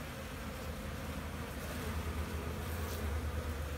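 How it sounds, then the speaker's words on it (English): A close, steady buzzing of many honeybees, a continuous low drone that swells slightly louder toward the end, with no voices. "I'm going to grab this whole bunch of bees."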